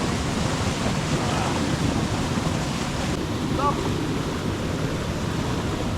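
Waterfall and cascades in a Tuscan natural setting: a steady, dense rushing roar of falling water with some wind buffeting on the microphone, and a brief spoken word over the top.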